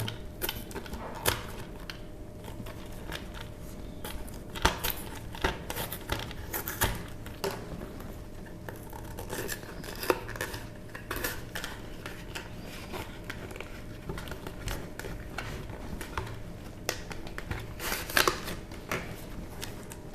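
Crinkly plastic and cardboard packaging of a SanDisk Extreme 16 GB memory card being handled and torn open, a steady run of close, faint crackles and small clicks.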